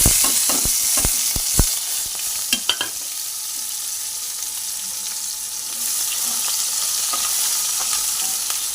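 Onions sizzle in hot oil in a wok with cardamom and a cinnamon stick, stirred with sharp scraping clacks early on, then a steady, close frying hiss continues alone without talk.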